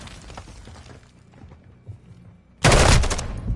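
Gunfire in an online Modern Warfare–style shooter game: quiet low rumble, then a sudden loud burst of rapid automatic shots in the last second, close and harsh.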